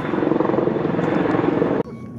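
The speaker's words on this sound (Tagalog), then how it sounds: "medyo maingay kasi may helicopter at the" Helicopter passing overhead outdoors in Bahrain, a loud, steady rotor drone filling the first two seconds before cutting off abruptly, then quieter background.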